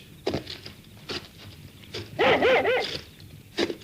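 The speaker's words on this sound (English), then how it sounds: "what's the matter with your dog?" A dog barks excitedly in a 1950s radio drama set on a country road, several sharp yelping barks in a quick burst midway, with a few scattered yaps before and after, loud and close against quiet background.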